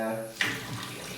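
Water pours into a container for protein porridge, a brief splashing stream that starts abruptly and continues close and steady at moderate volume.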